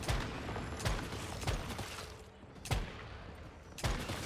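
Scattered gunshots from enemies and the player in the survival shooter Once Human, sharp single cracks every second or so over a faint rumbling background.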